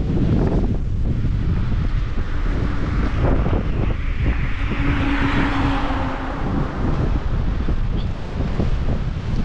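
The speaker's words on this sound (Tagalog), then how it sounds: "Malakas ang hangin." Strong night wind buffets an outdoor microphone in loud, uneven gusts, roaring low and rushing for the whole stretch, with no voices over it.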